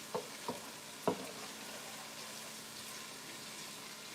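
Garlic sizzling in a pan for stewed oxtails, a steady soft frying hiss under a few sharp clinks of a utensil near the start, with no voices.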